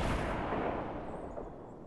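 Rocket fire in the Fortnite video game, a single booming blast already underway that rumbles and fades over two seconds, fairly distant and muffled.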